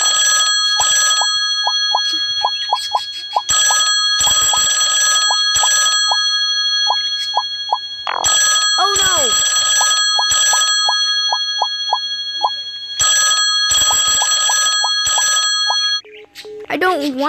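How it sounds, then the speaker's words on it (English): A phone rings in repeated bursts of bright electronic tones, loud and close, separated by pauses while a voice speaks between the rings. "Please answer the phone."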